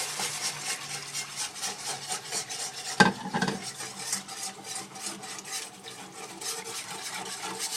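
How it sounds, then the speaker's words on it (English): A whisk scrapes steadily through enchilada sauce in a pan, with close, repetitive stirring strokes and one sharper knock partway through, continuous with no talking. "Just start whisking it in."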